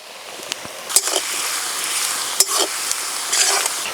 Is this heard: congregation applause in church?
no